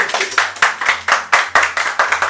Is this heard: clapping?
yes